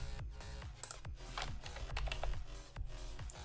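Someone types on a computer keyboard, producing quick, irregular clusters of crisp key clicks and taps close to the microphone, without any talking.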